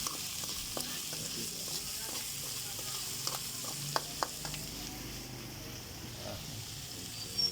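Beef offal and skin frying in oil for Ilocano papaitan give off a steady, close sizzle with occasional pops and stirring clinks, with brief talk faintly in the background.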